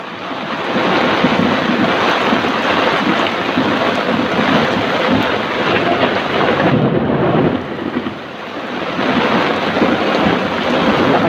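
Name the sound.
thunder and rain during typhoon Carina flooding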